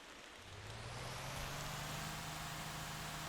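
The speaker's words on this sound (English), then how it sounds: "And it's raining again." Rain in the driving game Motor Town rises into a steady broadband hiss over a low vehicle hum, swelling in the first half second and then holding constant with no talking.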